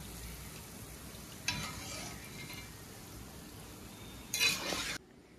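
Palm fritters (taler bora) fry in hot oil with a soft continuous sizzle, broken by two short bursts of stirring and utensil clinks before the frying cuts off.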